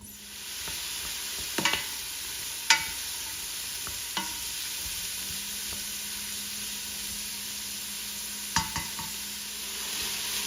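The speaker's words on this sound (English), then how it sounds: "give it a little stir and wait about 10 to 15 minutes for the onions to become translucent and the garlic to go ahead and saute down" Onions and garlic sautéing in a soup pot, a steady close sizzle of frying with occasional scraping stirs and small clacks of a utensil against the pan.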